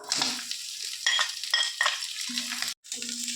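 Sliced onions are added to browned coconut masala for a soya fry and frying, with bursts of sizzle and the scrape of stirring in the pan, close by and fairly steady, with no talk.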